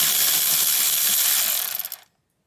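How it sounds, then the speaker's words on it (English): Steady, loud whirring and clicking as a ratchet turns out a rear caliper bracket bolt on a 2004 Hyundai Sonata, running continuously up close before slowing in a few final clicks and stopping abruptly into silence. "One caliper bracket bolt is removed. Now I'm gonna remove the second one."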